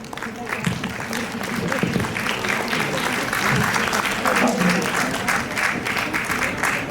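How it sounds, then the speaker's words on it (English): A seminar audience claps steadily to welcome a speaker to the stage, a continuous wash of applause mixed with some murmuring voices and background sound. "Let's welcome ma'am with a big round of applause."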